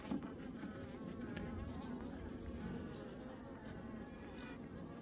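Honey bees drone steadily at a queenless hive as a new queen is introduced, a dense, continuous close-up buzz that swells and fades slightly without pause.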